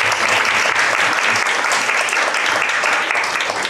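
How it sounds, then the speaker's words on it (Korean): A church congregation breaks into dense, sustained applause that fills the room evenly and stays loud throughout, with no other sound standing out. "우리 박수 한번 치겠습니다."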